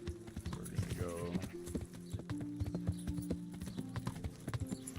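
Horse hooves clip-clop in Kingdom Come: Deliverance, a brisk, steady rhythm of clear hoof strikes close by, with a faint whinny and game music or voice murmuring in the background.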